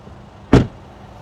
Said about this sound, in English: Let's listen to the sound of the closing door from the exterior.